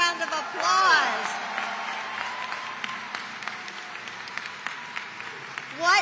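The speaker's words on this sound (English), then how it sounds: "let's give her another round of applause" An outdoor crowd at the Festa Italiana festival in Milwaukee applauds after a performance: moderate, fairly distant clapping running through the middle, with a voice speaking over it at the start and again at the end.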